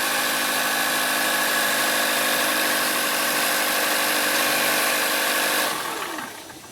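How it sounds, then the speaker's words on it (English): A 2014–2018 Kia Forte engine idles steadily after an oil change, a constant close mechanical hum with faint tool-like vibration, running alone before cutting off near the end. "Now we're going to start the engine and let it run for 15 seconds."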